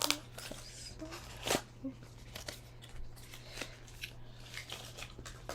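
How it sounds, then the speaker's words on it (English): Cardboard box of a makeup product being torn open by hand, quiet crinkly ripping and tearing noises in short bursts over a steady low hum. "I have to rip this box."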